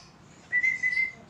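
A pet bird in target training gives a short, clear whistled call in two quick parts, close and alone over a quiet room.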